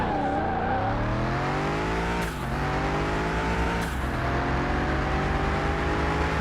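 An electric car in Car Mechanic Simulator 21 accelerates hard, a loud steady motor whine climbing in pitch, dropping briefly twice as it shifts, then rising again.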